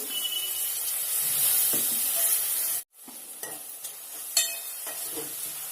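Squeezed, washed dried prawns stirred into hot oil for a tomato dried-prawn curry, a steady close sizzle with scraping spoon strokes, a brief cut to silence midway, then softer frying with scattered clinks and scrapes.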